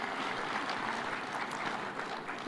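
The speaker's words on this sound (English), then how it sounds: "Another round of applause for Waziri." Applause from a conference audience at a devolution conference in Homabay, Kenya: a steady, dense wash of clapping throughout, fairly distant and moderately quiet, with no talk over it.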